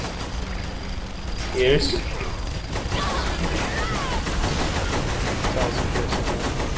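Shotgun gunfire in the video game Saints Row The Third, a rapid run of blasts mixed with other in-game shooting through a busy firefight, with players talking over it throughout.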